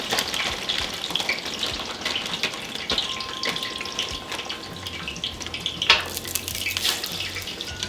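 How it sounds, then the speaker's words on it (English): Frozen fries sizzle on a hot Blackstone griddle, a dense steady crackling hiss up close with occasional scraping and stirring clicks, no voices. "We're getting a good sizzle."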